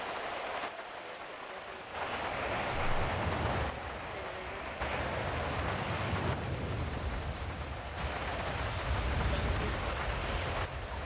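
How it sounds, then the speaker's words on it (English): Heavy rain pouring down in a GTA roleplay city, a steady dense hiss that holds loud and even throughout with slight swells, no talk over it. "Has it ever rained this hard for you guys in the city?"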